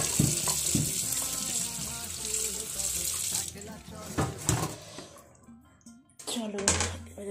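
Okra being washed under a running kitchen tap, steady splashing water close by with rinsing clatter, then a pause and brief resumed flow, a voice talking over parts of it.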